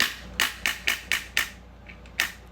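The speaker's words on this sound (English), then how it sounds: "it has a really nice clicker in there. Really nice ratchet" A ratchet clicker on a 1982-83 G.I. Joe HAL toy snaps out five quick, sharp plastic clicks in a brisk row, pauses, then gives one faint click and a final crisp one, close up with no talk.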